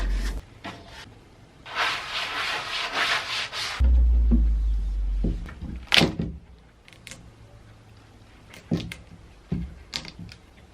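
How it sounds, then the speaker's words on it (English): A sander works over a wooden 1930s waterfall dresser being refinished, giving a couple of short, loud, close scraping bursts with a low motor hum between them, followed by scattered knocks and handling sounds, with no talking. "After I let the dresser completely dry, I went in with the sander"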